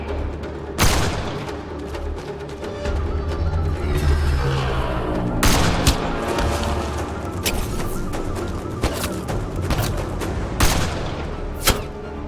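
Gunfire rings out during a sniper fight in Mass Effect: Andromeda, with sharp shots and booms scattered over a busy battle backdrop and sporadic bursts through the scene.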